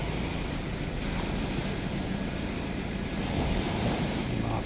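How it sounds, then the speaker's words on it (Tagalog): Sea surf rolls steadily at Palm Beach Resort in Laiya, Batangas, a continuous wash of waves mixed with gusty wind buffeting the microphone, broad and fairly loud with no voices. "Yung dagat to."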